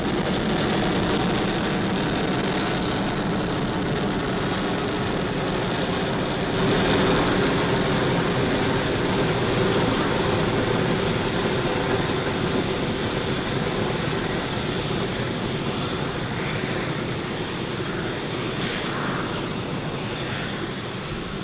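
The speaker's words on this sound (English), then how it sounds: "Falcon 9 has successfully lifted off from Pad 40 at Cape Canaveral Space Force Station" SpaceX Falcon 9 rocket engines roaring during launch ascent from Pad 40 at Cape Canaveral Space Force Station, carrying Starlink satellites on the booster's tenth flight; a steady, dense, broadband rumble holds loud and unbroken throughout, with no voices.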